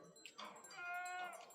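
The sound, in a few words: sheep bleating in a flock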